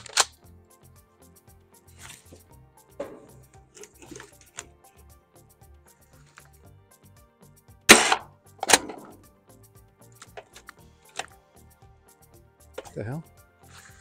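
A Gameface Trion toy dart blaster fires darts at a target about 35 feet away: two sharp, loud pops close together in the middle of an otherwise quiet stretch, with a few fainter clicks and knocks around them.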